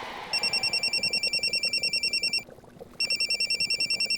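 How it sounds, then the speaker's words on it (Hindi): A telephone rings in rapid electronic trills, loud and close, one long burst, a short pause, then another burst starting. "भैया जी का फोन।"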